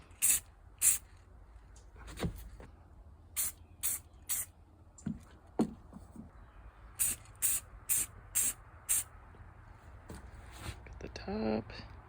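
Short hissing bursts of spray sealant hit a jewelry box, about a dozen quick sprays in uneven clusters, close and fairly quiet, with small handling clicks between them and a faint voice near the end.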